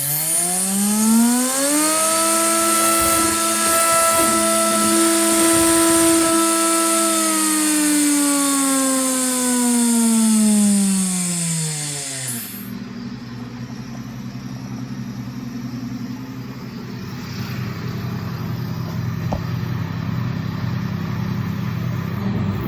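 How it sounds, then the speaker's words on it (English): A combat robot's spinning weapon spins up with a rising whine, holds a steady high-pitched howl for several seconds, then winds down abruptly and leaves a low rumbling hum in the background. "I managed to find some old footage of a spin-up test"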